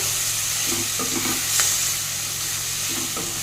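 Onions and tomatoes fry in a pan for a homemade uggani breakfast, with a close, constant sizzle and hiss and soft scraping stirs coming in short bursts over it.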